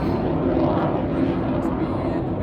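A loud, continuous roar of a military jet aircraft passing overhead, broad and rumbling with a steady, washing intensity throughout.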